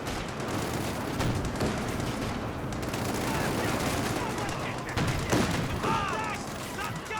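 Bursts of rifle and machine-gun fire crackle through a Company of Heroes 2 battle, with scattered explosions and booms in a dense, continuous wartime soundscape and a voice occasionally audible underneath.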